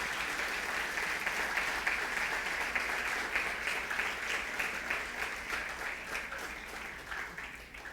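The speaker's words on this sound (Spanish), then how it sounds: "¿No le puedes dar un aplauso gigante al Señor?" A church congregation breaks into sustained applause, a dense, even clapping from many hands that holds steady and slowly fades toward the end.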